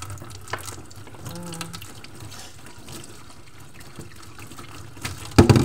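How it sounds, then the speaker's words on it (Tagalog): Plates being washed under a running kitchen tap, a steady close splash of water with faint clinks of dishware and a louder knock at the end. "Karon hugas tag plato kay mitras na ay agas"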